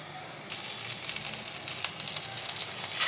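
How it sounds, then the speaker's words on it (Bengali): Taro flower mixture frying and being stirred in a frying pan to dry off its water: a steady, close, bright sizzle bursts in after half a second and holds to the end, with no voices. "এখন আমি ফ্রাই প্যানে নিয়ে নিব, পানিটা একদম শুকিয়ে নিব"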